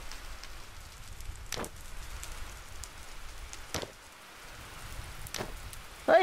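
Steady rain hisses in the Minecraft video game, a continuous even wash of falling water lasting the whole stretch, with a few faint sharp ticks rising above it.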